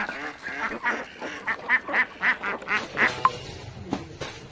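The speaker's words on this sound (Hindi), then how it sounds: "बतख को भी दे दिए हैं खाना।" Ducks being fed by hand quack repeatedly in a lively, overlapping chorus, close and loud throughout with no pause.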